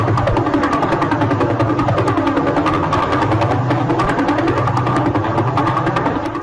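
A sonified pulsar, a rapidly spinning neutron star, gives a continuous buzzing, engine-like drone with fast regular pulses throughout, steady and fairly loud with no talking.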